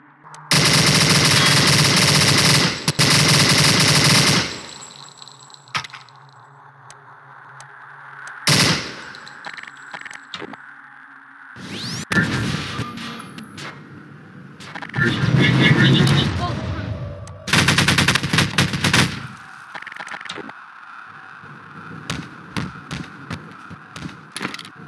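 Loud bursts of machine gun fire crack out in several long volleys, separated by gaps filled with a low hum and a voice speaking between the bursts.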